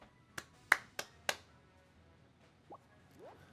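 Four sharp claps in an uneven rhythm during a Squad Busters game, followed by a few faint electronic chirps and rising blips, all fairly quiet.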